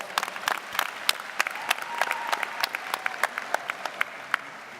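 A graduation ceremony crowd at Grand Rapids University Preparatory Academy gives another round of applause, sharp scattered claps from a large audience, moderately quiet and fairly distant, sustained evenly throughout.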